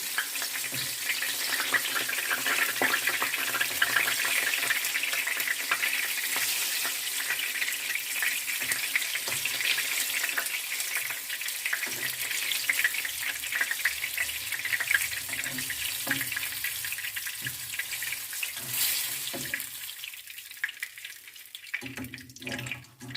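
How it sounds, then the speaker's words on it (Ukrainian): Steady sizzling and crackling of battered apple rings frying in hot oil, continuous and fairly close, with faint clinks now and then and no talking. "обсмажуємо всі"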